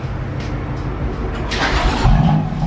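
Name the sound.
BMW M4 S55 engine cold start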